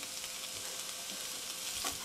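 Onions frying in a pan give a steady, close sizzle with a brief stirring scrape near the end, and no voices.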